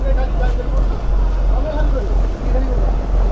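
Ferry engine running on Chilika Lake in Odisha, a steady, loud low rumble with water churning beneath, under continuous talk.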